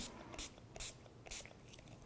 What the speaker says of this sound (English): I'm going to spray my coffee, excuse me, the wine